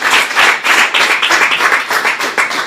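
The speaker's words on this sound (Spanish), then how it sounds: "Denle un aplauso, que tienen que estar felices." Church congregation applauding together during a sermon, a steady dense round of clapping from many hands in a room, loud and continuous throughout.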